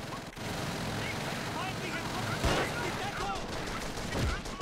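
Scattered gunfire in the PS2 shooter Call of Duty 3, a couple of sharp distant shots and bursts standing out over a low battle rumble, with a player's voice talking faintly in between.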